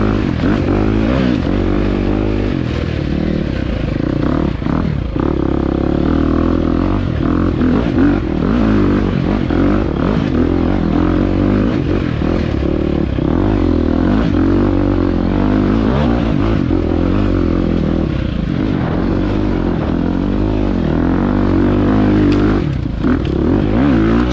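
Enduro dirt bike ridden over tight, technical off-road terrain, the engine loud and close throughout, constantly revving and dropping with clattering and scraping from the rough ground.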